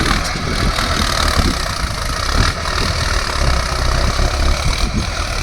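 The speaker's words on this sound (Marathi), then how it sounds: "अक्षरशः त्यामध्ये ट्रॅक्टर चालून म्हणजे नांगरणी करतात" A tractor ploughing through a standing coriander field near Chandoli, its diesel engine chugging at a steady low rumble, loud and close for the whole few seconds.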